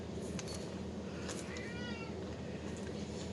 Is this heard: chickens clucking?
no